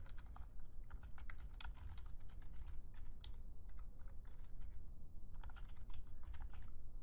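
Computer keyboard keys clatter in quick, irregular bursts as code is typed, close and fairly quiet, with short pauses between runs of keystrokes.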